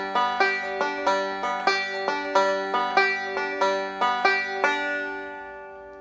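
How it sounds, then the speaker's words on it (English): A five-string banjo picks a steady Scruggs-style 3-2-5-1 roll on the third, second, fifth and first strings: bright, evenly spaced plucked notes repeating in a loop, close and alone, ending on a ringing decay. "the 3-2-5-1 roll. So it involves the third string, the second string, the fifth string,"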